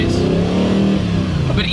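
A Spyker C8 supercar engine revs hard while accelerating, a loud, close, rising growl that carries under a person speaking.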